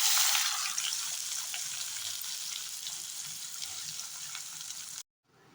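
Sautéed onions tipped into hot oil in a frying pan for paneer gravy set off a loud, continuous sizzle that fades slightly, then cuts off abruptly.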